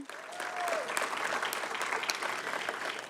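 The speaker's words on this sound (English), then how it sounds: "can we get a big round of applause for Stephen and for Steve" Steady applause from a crowd, dense clapping that holds at an even level throughout, with a brief whistle-like tone near the start.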